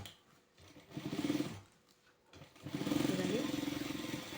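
A sewing machine runs in two bursts while stitching pants, a steady motorized buzz with a rhythmic rattle, close and fairly quiet, pausing briefly between runs.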